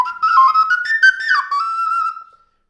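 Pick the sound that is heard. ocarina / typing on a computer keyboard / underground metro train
ocarina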